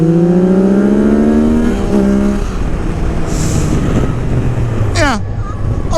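Motorcycle engine running loudly close by, its pitch rising as it revs and then falling back to a steady idle, with a brief clatter near the end.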